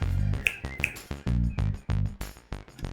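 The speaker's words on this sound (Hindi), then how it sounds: "ये चुटकी क्या बजा रही हो भाभी?" A woman snaps her fingers in a quick series of sharp, close, dry clicks, some coming in pairs, with no talking.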